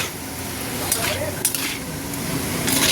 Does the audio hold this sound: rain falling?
no